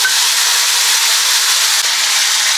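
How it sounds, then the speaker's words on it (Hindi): Two medium tomatoes, chopped small, frying in hot oil while fish is cooked, giving a steady, loud sizzling hiss that holds evenly throughout with no voices. "अब हम डाल देंगे इसी तेल में 2 मीडियम साइज के टमाटर को छोटे छोटे टुकड़ों में काट के।"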